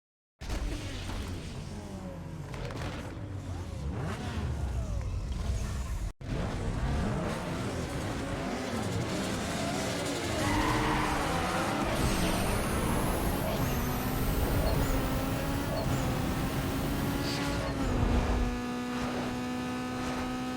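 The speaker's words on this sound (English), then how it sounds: "let's quickly go and do a drag race" Mitsubishi Lancer Evo VIII 2.0L I4 with stage 3 turbo drag racing in Need For Speed Underground, engine revving up through repeated gear changes in rising sweeps, loud and continuous, ending in a high steady whine.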